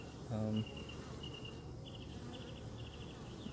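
Honeybees buzz faintly around a hive entrance board, where foragers carry pollen inside, with thin intermittent whines of passing bees over a soft background.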